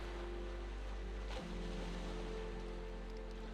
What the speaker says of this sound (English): The soothing sound of the waves